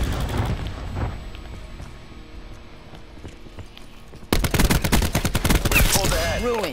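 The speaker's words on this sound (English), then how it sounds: "Cluster grenade." Cluster grenade explosions in Call of Duty: Black Ops 4 set off a sudden loud burst of rapid cracking blasts partway through, after quieter game noise and faint voices.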